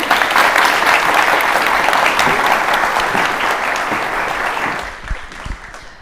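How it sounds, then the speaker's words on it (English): An audience at an awards forum gives a steady round of applause. The clapping stays dense and loud, then thins to a few scattered claps at the end. "another round of applause"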